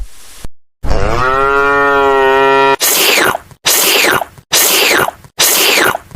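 A cow moos loudly and close by, one long drawn-out low call followed by four shorter, rougher moos in a steady sequence.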